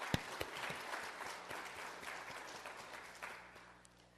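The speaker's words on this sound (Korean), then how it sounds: "박수를 보냅니다." A church congregation claps for the fathers present on Father's Day, a fairly quiet, crowded patter of hands with a few sharper nearby claps, slowly fading over several seconds.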